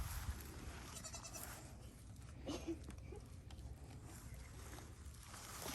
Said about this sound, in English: Like the cool goats.